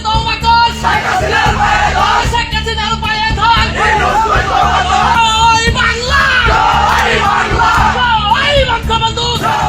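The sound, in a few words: protesters chanting slogans surrounding the Secretariat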